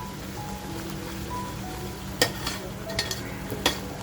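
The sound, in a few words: masala frying in a pan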